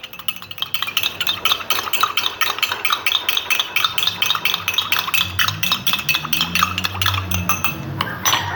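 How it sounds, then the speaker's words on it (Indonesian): A spoon stirs a sachet of sweetener into a cucumber iced drink, clinking quickly and rhythmically against the glass for several seconds, loud and close, with no talk. "ini kita aduk sampai rata."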